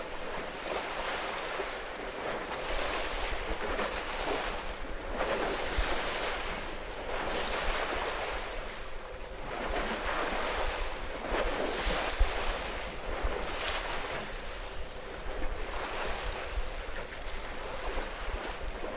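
Rough water churns and surges over sandbanks in repeated waves on the tidal River Severn, loud and close, with wind buffeting the microphone.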